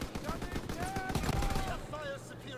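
Gunfire from Call of Duty: WWII, rapid overlapping shots and bursts mixed with game effects, with someone talking over much of it.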